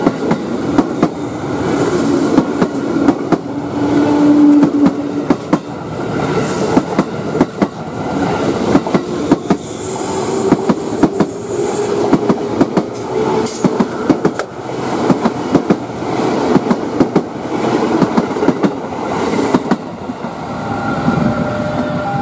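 The Serayu passenger train rolls past on the railway, a long, steady rumble with rhythmic clickety-clack from the wheels crossing rail joints, close and loud throughout, with no talk.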